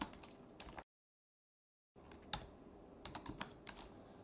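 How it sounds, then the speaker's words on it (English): Fingers typing on a computer keyboard at a desk, quick bursts of close key clicks split by a full second of silence, then a denser run of taps with a few heavier strokes. "then type the router EIGRP"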